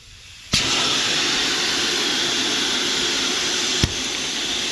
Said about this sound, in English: the air will start to escape quickly